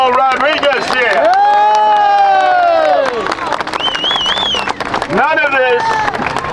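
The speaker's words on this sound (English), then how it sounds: "Have a great round of applause for Paul Rodriguez here." A loud outdoor crowd at a Bay Ridge street protest against migrant shelters cheers and shouts for Paul Rodriguez, with raised voices ringing out continuously and near.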